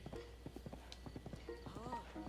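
A horse's hooves clip-clop at a steady trot in Zelda: Breath of the Wild, in the Akkala Highlands, with rhythmic thuds continuing under a person talking.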